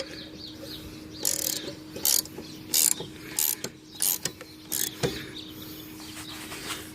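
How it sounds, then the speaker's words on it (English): Ratchet wrench clicking in short bursts while tightening the blade bolt on a lawnmower, a series of sharp close mechanical ratcheting strokes with brief pauses between them. "And then you flip your ratchet to the opposite direction,"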